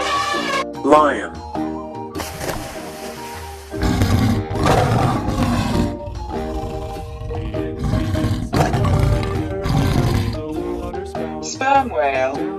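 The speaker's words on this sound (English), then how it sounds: "Lion." A lion's roar on a children's zoo-animal toys video, loud and sustained over busy music and a voice naming animals, with other roars and grunts around it.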